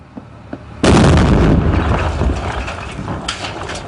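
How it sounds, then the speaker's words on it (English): Marines detonate a bomb inside a house on Pharmacy Road, a sudden loud nearby blast that booms and then rumbles and decays for several seconds after a few faint pops. "The Marines leave the house and detonate the bomb."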